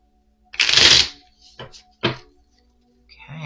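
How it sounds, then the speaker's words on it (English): A deck of angel cards is shuffled in a few quick bursts: one longer riffle, then two short flicks, close and fairly quiet. A voice is heard faintly at the end. "Shuffle, shuffle."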